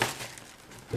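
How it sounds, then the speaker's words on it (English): Tissue paper crinkles close up while a cat-themed subscription box is unboxed, a brief continuous rustling and crumpling with a louder crackle at the start and end. "So we got this little wrapping paper, or not wrapping paper, but tissue paper with a sticker."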